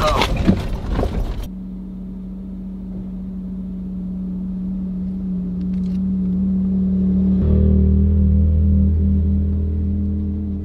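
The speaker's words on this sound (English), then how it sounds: "A lot of ATV traffic." ATVs rumble along the Arizona Peace Trail, a steady engine drone that swells louder partway through as the vehicles draw nearer, after a brief burst of louder noise at the start.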